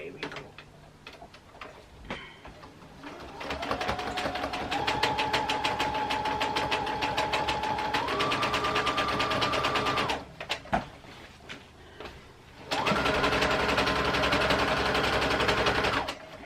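A domestic sewing machine top stitching close to the edge of a hem, running in steady rapid bursts with short pauses in between, close by, with a little talk at the start.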